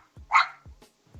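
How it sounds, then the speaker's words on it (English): A pet dog gives a single sharp bark close by in a quiet room, with faint low thumps around it. "I love you guys can hear my dog barking."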